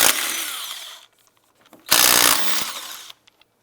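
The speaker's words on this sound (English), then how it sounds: "Using a 19mm socket, let's go ahead and remove the lug nuts" An impact wrench with a 19mm socket spins lug nuts off a rear wheel of a 2001-2007 Ford Escape, two loud buzzing bursts of about a second each separated by a quiet pause with faint clinks, close by.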